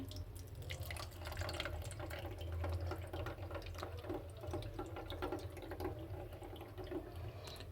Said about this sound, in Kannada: ಈಗ ಸೋಸ್ಕೊಳ್ಳೋಣ ನಾನು ಹಾಗೆ ಮೇಲಿದ್ದು ಹಾಕ್ಕೊಳ್ತಾ ಇದ್ದೀನಿ